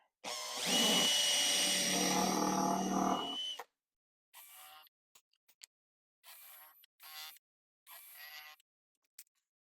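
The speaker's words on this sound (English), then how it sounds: "I'll start by drilling out a countersink here so my screws will go flush" A power drill whirs loudly for a few seconds drilling a countersink into wood, then stops; several short, fainter bursts of drilling follow with pauses between them.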